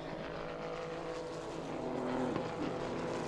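Renault Sport Trophy race cars at Paul Ricard, heard as a steady engine roar with shifting pitch and a brief louder rise as cars pass, moderately distant, no voices.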